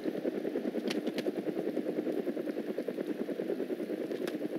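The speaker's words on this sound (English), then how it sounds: "Helicopter's coming over, getting that bird on." A helicopter in the video game ArmA 2 passes overhead, its steady rapid rotor thump and engine drone holding loud and constant throughout, with no talk.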